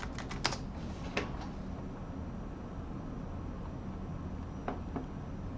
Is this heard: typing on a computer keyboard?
yes